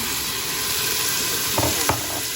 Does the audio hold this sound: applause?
no